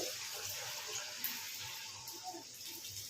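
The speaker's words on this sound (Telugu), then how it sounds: "ఇప్పుడు కాగుతున్న నూనెలో వేసుకుందాము" Corn vadas (Telugu garelu) shaped with a hole in the middle fry in hot oil, giving a steady wet bubbling hiss with soft crackles rising and falling, fairly close and with no talk.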